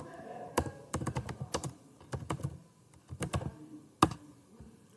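Keys clatter on a computer keyboard as a command is typed, with short sharp clicks in quick clusters separated by brief pauses, close and fairly loud with no voices.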